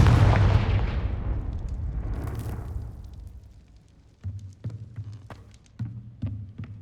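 A Confringo blasting spell from Hogwarts Legacy bursts in a loud, booming explosion that rolls and decays over a few seconds, followed by a series of lighter thuds and pops in the quieter aftermath.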